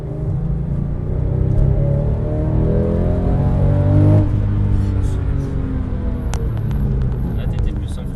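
A Porsche GT3 Club Sport engine rises and falls in pitch as it revs on a race track, a loud, close rumbling drone with people talking over it.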